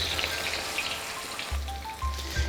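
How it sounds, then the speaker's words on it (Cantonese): Eggplant pieces frying in a wok of very hot oil over high heat, a steady close crackling sizzle running throughout with low bubbling surges near the end. "我哋將茄子放入去炸一炸佢。"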